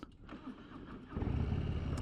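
A 2025 Harley-Davidson Low Rider S motorcycle starts with a short electric crank, then its engine catches about halfway through and settles into a loud, throbbing rumble up close.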